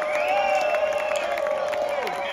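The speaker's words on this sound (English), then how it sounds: "We're only gonna give them back on stage with that applause going." At an outdoor festival concert, a crowd cheers and applauds for a band, with sustained whoops and clapping that hold at a steady level.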